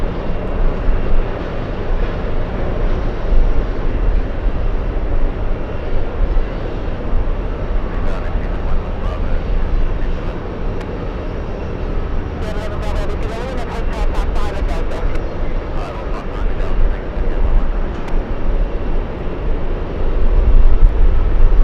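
A Boeing 787 taxiing at JFK airport gives a steady loud jet engine rumble and whine for the whole stretch, with a brief burst of higher clicking noise partway through and people talking over it.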